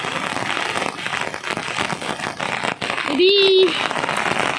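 Heavy rain falls on flooded roads in West Godavari district as a steady broadband hiss. A voice speaks over it, and a short car horn sounds near the end.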